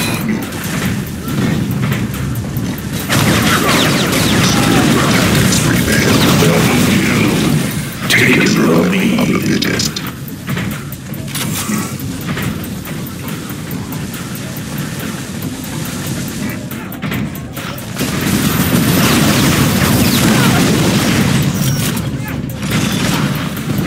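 Dense gunfire and booming explosions from an Unreal Tournament III deathmatch, a loud continuous barrage that swells and eases in waves, with voices talking over the battle.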